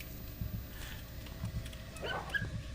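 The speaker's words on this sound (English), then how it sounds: "Oh, that's a dog." A dog in a video game barks and yips in short bursts near the end, over a low rumbling game background, with faint whimpering sounds earlier.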